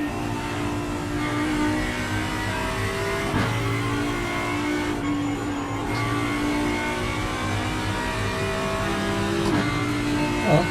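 A car accelerates hard up the Döttinger Höhe straight, its engine a loud, steady drone that holds close and strong through the whole stretch, with gear shifts briefly interrupting the pull.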